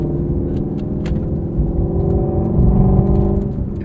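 A 2020 Ford Mustang Shelby GT350R engine drones with a deep, steady rumble that swells slightly as it revs, close and continuous throughout.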